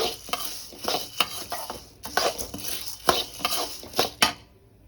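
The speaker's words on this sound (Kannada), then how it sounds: "ಒಂದು ಚೂರು ತಿರ್ಗ ನಾನು ಎಣ್ಣೆ ಹಾಕ್ಕೊಂಡು ಆಮೇಲೆ ತೊಗರಿ ಬೇಳೆ ಹಾಕ್ಕೊಂಡೆ" Toor dal roasting in oil in a pan is stirred with a metal utensil, giving repeated scraping clinks against the pan at an uneven rhythm over a soft sizzle, close by with no talking.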